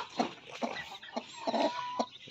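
Native chickens on a farm cluck and squawk in several bursts as one rooster chases another, with fowl calls rising and falling close by and no talking.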